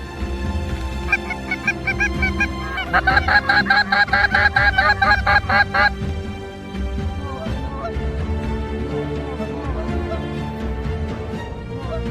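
Wild geese honking during a hunt, a loud, dense chorus of repeated nasal honks from a flock that peaks in a rapid burst and then carries on more loosely, close and unbroken.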